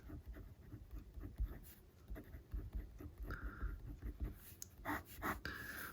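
A 1942 Sheaffer Triumph Wideband fountain pen scratching across paper in short, repeated strokes, close and very faint, with a soft breath now and then.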